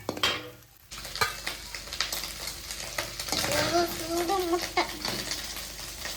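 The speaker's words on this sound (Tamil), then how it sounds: "முட்டை இந்த அளவுக்கு பொரிஞ்சதுக்கு அப்புறம் தனியா எடுத்து வச்சுக்கலாம்." An egg fries in oil in a pan, sizzling and crackling steadily while a utensil scrapes and stirs; brief faint voices come and go.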